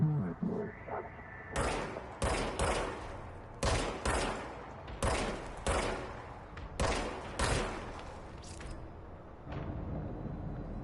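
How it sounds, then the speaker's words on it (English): Sharp gunshots from the video game Control crack in an irregular string, some spaced out and some in quick pairs, loud and close with brief ringing tails between them. "So how are those gunshots? Are those loud or are they alright?"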